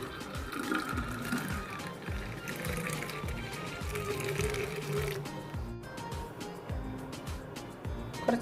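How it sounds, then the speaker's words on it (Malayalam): Blended cold coffee is poured from a mixer jar into a glass, a steady liquid splashing and trickling close up that runs for several seconds. "ഗ്ലാസ്സിലേക്ക് ഒഴിക്കാം."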